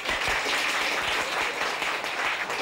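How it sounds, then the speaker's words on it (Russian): Steady, full applause from a studio audience on a New Year cooking show, continuous and fairly loud throughout the short stretch, with no talk over it. "Ваши аплодисменты!"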